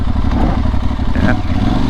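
Aprilia Tuareg 660 motorcycle ridden onto gravel, its engine a loud, steady, close drone with a rough clattering texture running throughout.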